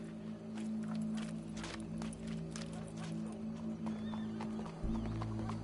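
Horse hooves clip-clop steadily over a low droning hum, with a horse whinnying, the Red Dead Redemption 2 game sound continuous and fairly quiet.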